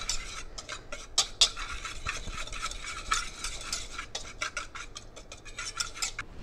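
A utensil stirs and scrapes keto hamburger bun dry ingredients with salt in a bowl, producing close, quiet, rapid scratchy strokes with occasional sharper clinks against the bowl.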